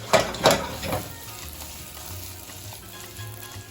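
Gluten-free gnocchi crisping in a hot pan, a couple of loud clacks from them being moved at the start, then a soft, steady sizzle alone.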